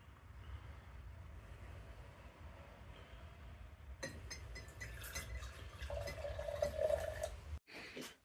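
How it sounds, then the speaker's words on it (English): The last dregs of home-brewed turbo cider, cloudy with sediment, pour from a demijohn into a glass: a quiet, close trickling and splashing that grows into a gurgling fill, then stops abruptly. "The last little bit we'll just pour into the glass"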